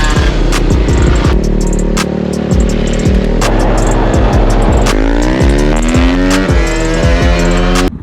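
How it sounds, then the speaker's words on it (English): A Sherco big-bore motorcycle running stock fuel injection rides on the street, its engine loud and close, holding a steady roar and then climbing through rising revs. "This is the first kind of long outing on this bike with running the stock injection."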